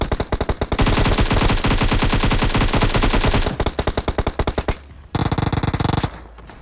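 Rapid automatic gunfire in the video game PUBG Mobile, long loud bursts of sharp evenly spaced shots, a brief pause, then more quick bursts near the end.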